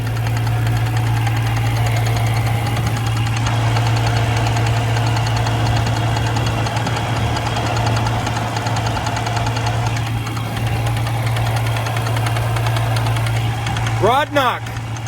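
A failing car engine with rod knock idles under a fast, even metallic knocking. The rough, vibrating drone carries on steadily and close, and a short rising whine cuts in near the end.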